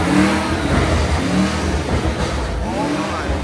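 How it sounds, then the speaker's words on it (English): A BMW M8 Competition with Eventuri intakes and a catless downpipe revs loudly up close, a dense, roaring engine sound that rises and falls, with excited voices mixed in over it. "Let's hear the intake."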